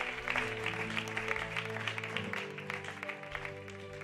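A church congregation applauds the Lord together, a steady sustained clapping with a faint musical drone underneath, moderately quiet and continuous throughout.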